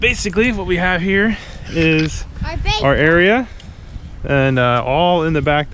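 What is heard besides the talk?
None of the usual background noises is heard.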